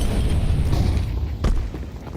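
Grenades explode in a Counter-Strike match, heard as a low booming rumble followed by a second sharp blast, loud and dense, during a pro tournament broadcast.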